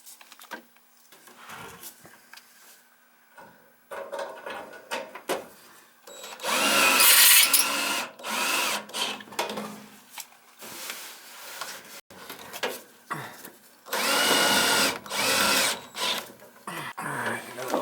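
A power drill fastens a part back into a Goodman gas furnace, with several loud bursts of whirring separated by pauses and handling noise.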